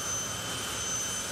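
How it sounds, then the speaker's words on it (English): A fighter-plane jet engine fitted to a jet funny car at a drag racing event roars steadily and loudly, a continuous broadband howl with a thin high whine and no speech. "Yes, that is a jet engine. It's actually out of a fighter plane."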